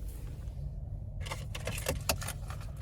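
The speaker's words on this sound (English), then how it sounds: "Finally, here's the key fob." Key fob for a 2024 Nissan Rogue S jangling close by in a handful of quick metallic clinks, over a steady low hum from the car's interior.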